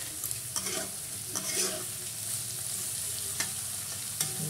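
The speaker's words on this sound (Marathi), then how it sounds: "बघा, असं चांगलं परतून घ्यायचं" Chopped onion with salt sautés in a pan for a village-style potato chutney, crackling with a constant sizzle while a spatula stirs it in a few scraping strokes, close and unaccompanied by speech.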